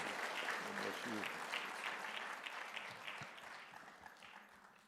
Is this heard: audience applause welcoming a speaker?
yes